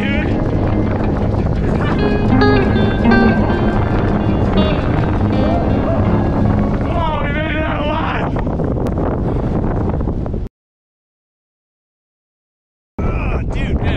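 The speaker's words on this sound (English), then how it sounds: "Ah, it's windy!" Steady roaring wind gusts buffet the microphone on a snowy ski slope, with muffled voices underneath; the blustery noise cuts out for a couple of seconds, then returns.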